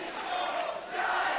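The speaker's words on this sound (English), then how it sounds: "you can hear the crowd now starting to get behind the upstart Dani Luna" Wrestling crowd cheering for Dani Luna during a match with Toni Storm, a brief, dense swell of voices rising and chanting from a large arena audience.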